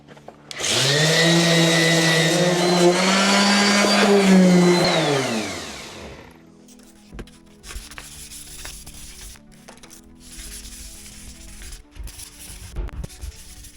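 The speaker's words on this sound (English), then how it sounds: "Now we're gonna sand and sand and sand and sand." A power sander works an epoxy river table, a loud steady whine with a pitch that drifts slightly for about six seconds, then cuts off and leaves quiet workshop noise with small knocks.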